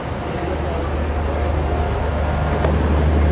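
Inside the Garib Rath Express 12909 on its run from Bandra Terminus toward Hazrat Nizamuddin, a loud continuous low rumble and drone fills the coach, with one brief sharper clank near the end.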